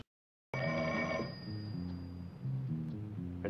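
A gag golf-club telephone rings with a bright, trilling bell, loud and close at first, then fading into a jaunty run of tones.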